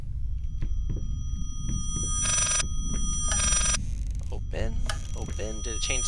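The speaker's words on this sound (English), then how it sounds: "What are you ringing for if you won't let me answer you?" A telephone rings in the horror video game Layers of Fear, sounding in two sustained bursts over a low droning game soundscape, with a person speaking intermittently over it.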